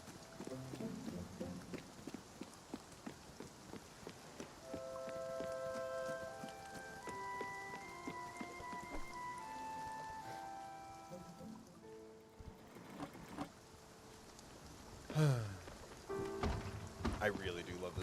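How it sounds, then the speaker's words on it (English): Simulated rain from the Spiritfarer video game, a soft steady patter under gentle melodic game music, with a few louder splashy clatters near the end. "I really do love this simulated rain"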